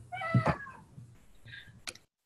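A cat meows twice, a loud close cry near the start and a shorter, fainter one toward the end, with quiet background between and no talking.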